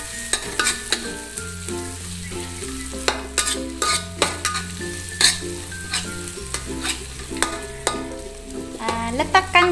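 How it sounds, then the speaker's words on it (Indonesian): Anchovies are stir-fried in a pan for kampung fried rice, a steady sizzle with scraping stirs underneath fairly loud background music. "Dan kita letak ini bilis. Bilis ya. Lepas itu kacau-kacau."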